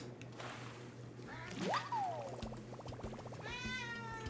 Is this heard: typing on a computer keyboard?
no